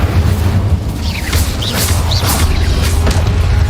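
Incendio fire spell cast in a Hogwarts wizarding video game, heard as a whooshing burst with crackling flare over a steady low rumble of game ambience, followed by further quick magical zaps.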